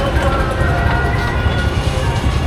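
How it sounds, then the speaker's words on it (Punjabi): A small children's ride train at the 2025 Chhapar fair in Punjab rumbles steadily along its track amid continuous crowd and fairground noise, with faint voices mixed in. "ਇੱਧਰ ਬਾਕੀ ਬੱਚਿਆਂ ਵਾਸਤੇ ਆ ਛੋਟੀਆਂ ਟ੍ਰੇਨਾਂ ਤੇ ਦੇਖ ਸਕਦੇ ਹੋ ਜੀ"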